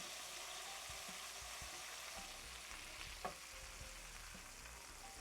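Wagyu beef fries in a hot pan with a steady, broadband sizzle, broken by soft scrapes and a brief sharper clatter as the meat is moved and pressed flat.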